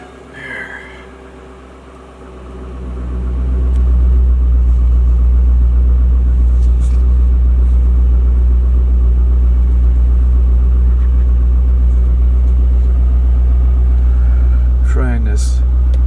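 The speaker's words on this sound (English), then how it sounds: "I'm going to start the car up after many months of sitting" A 2004 Chevrolet Corvette engine, back from months of sitting, catches and settles into a loud, steady idle that begins a few seconds in and rumbles on without a break, with a brief chirp near the end.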